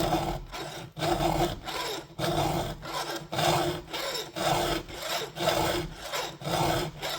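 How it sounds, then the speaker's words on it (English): A round file sharpens a chainsaw chain in regular rasping strokes, about ten evenly spaced scrapes, each a close, gritty rub followed by a short quiet return. "I'm not filing on my backstroke. I'm not digging in the file when I'm coming back."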